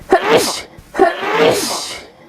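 Two close, forceful sneezes in a row, each with a sharp burst followed by a breathy trailing release.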